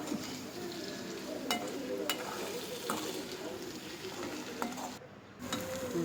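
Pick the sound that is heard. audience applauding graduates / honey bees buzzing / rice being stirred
rice being stirred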